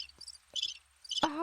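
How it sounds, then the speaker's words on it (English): Crickets chirp in short, faint bursts of high-pitched trills against a quiet background, ending with a brief louder noise. "I think it might be crickets."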